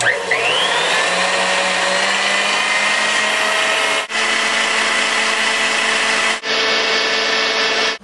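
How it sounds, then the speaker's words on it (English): Electric mixer beating egg yolk with sugar, a loud, steady high-pitched whir running continuously, briefly dipping twice as the beaters shift, no voices. "right now I'm going to beat the egg yolk with half of the sugar"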